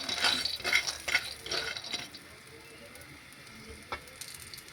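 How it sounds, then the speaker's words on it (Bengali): Lentil dumplings (bori) frying in a little oil, a soft crackling sizzle with a few sharper pops and scrapes early on, then a quieter steady hiss. "হালকা তেল দিয়ে বড়ি ভাজছি"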